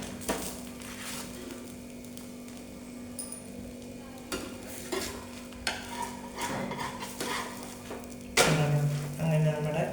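Food frying in a pan being turned over, with a low sizzle, intermittent metal scrapes and clinks of a utensil, and a louder clatter near the end, close by.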